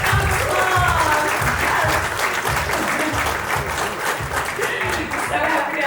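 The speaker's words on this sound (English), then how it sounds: "Give us a round of applause." Audience applause fills a keynote hall as the founder takes the stage at a motorbike launch event: dense, sustained clapping, loud and close, with a pulsing bass beat thumping underneath throughout.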